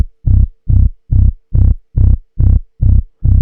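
Punchy synth bass from an Elektron Digitakt 2 pulsing in a steady rhythm, eight loud, thick, booming hits about two per second, each with a brief buzzy upper edge, with no voices.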